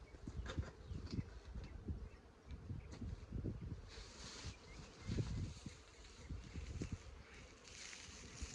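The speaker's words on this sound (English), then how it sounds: "those bees are obviously coming after me" A steady, faint drone of many honey bees buzzing around an open hive fills the air, swelling and fading slightly, with no one talking.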